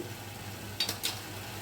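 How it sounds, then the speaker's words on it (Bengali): Ground turmeric, coriander, cumin and chili powders with salt and sugar frying in oil for jackfruit curry with lentil fritters, a quiet steady sizzle broken by two brief stirring scrapes near the middle. "সব উপকরণগুলিকে আমি একসঙ্গে করে এখন ভালো করে তেলের মধ্যে কষিয়ে নেব"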